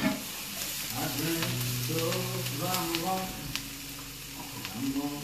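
One red and one yellow pepper frying in a pan for beef stroganoff, a loud, close, steady sizzle broken by repeated scraping and clattering as they are stirred, with a voice speaking over it in places.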